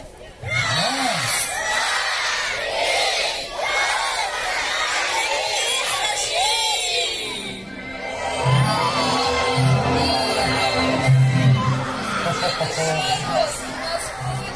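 A crowd of children shouts and cheers at a New Year tree opening, with loud, overlapping voices and whoops. Their noise swells and falls in waves, and an adult speaks over it at times.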